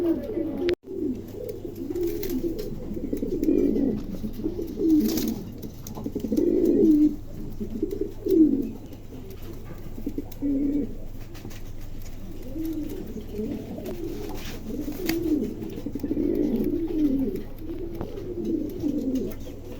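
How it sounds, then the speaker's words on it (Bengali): A pair of nine-kilo female pigeons coo repeatedly in low, throaty, rolling phrases, close and steady over a faint hum, with a sharp click near the start. "এখানে 2 পিস কবুতর আছে"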